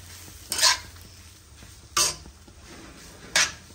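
Mayonnaise filling mixture stirred in a bowl, three distinct short bursts of wet scraping and clinking at roughly even intervals over a quiet background, close by with no talk.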